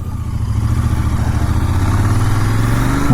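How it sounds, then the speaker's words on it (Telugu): A GT650 motorcycle engine drones steadily and loudly while being ridden, a continuous close-up hum with a slight rise in pitch near the end. "మన బైక్ సౌండ్ కూడా ఇది పిక్ చేసుకుంటా ఉంటుంది రేస్ చేసినప్పుడు"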